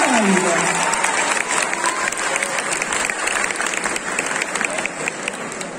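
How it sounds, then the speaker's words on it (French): A crowd applauds a Kamen Rider group at a cosplay contest in Nantes, with loud, sustained clapping filling the whole stretch and a host's voice briefly heard near the start. "On applaudit encore une fois bien fort Kamen Rider 5."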